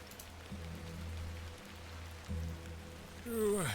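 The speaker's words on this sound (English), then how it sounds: "A bit of rain won't kill me, will it?" Steady rain in the video game The Excavation of Hob's Barrow patters on a surface at moderate volume, with a couple of brief low thuds and a short rising tone near the end.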